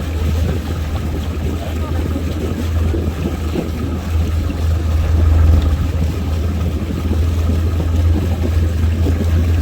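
A motorboat at a dock in Cotonou rumbles with a steady, loud low engine drone under wind and lapping water, continuous and close throughout.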